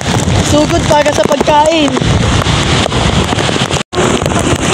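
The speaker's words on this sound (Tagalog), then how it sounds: "Lakas ng hangin." Strong wind during Typhoon Kristine roars and buffets the microphone in loud gusts, with a person speaking briefly over the blustery noise.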